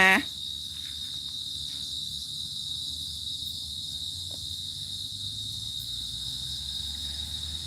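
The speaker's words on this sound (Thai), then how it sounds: "จริง ๆ ด้วยเป็นรูจิ้งหรีดค่ะ" Crickets chirp steadily from a cricket hole outdoors near dusk, a continuous high trill carrying through the whole stretch over a low ambient hum, with no talking.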